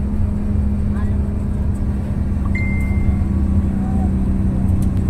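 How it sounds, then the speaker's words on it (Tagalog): A large bus engine drones steadily with a low rumbling hum, loud and continuous, as the bus runs along a road toward Santa Margarita, Southern Leyte. "Ganda pa ng tunog ng makina po siya."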